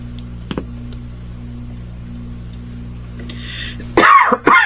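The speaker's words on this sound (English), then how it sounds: "I'll try to edit out as much of this coughing as I can." A burst of harsh coughing close by near the end, after a few seconds of near quiet with a couple of faint clicks.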